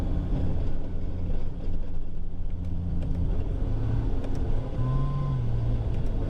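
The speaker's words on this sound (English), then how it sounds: "Downshift, downshift." A 1000hp single turbo BMW E90 335 with a DCT gearbox downshifting at low speed: a loud, steady engine drone heard from inside the car, with brief revs and short rising blips of pitch toward the end, no talk.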